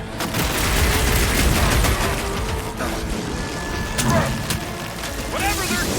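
Enemy energy-weapon fire in the Guardians of the Galaxy video game, dense rapid bursts and crashing impacts heavy over the first seconds, then sporadic shots and booms under loud game effects.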